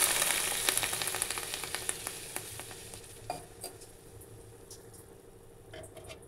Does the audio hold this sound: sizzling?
yes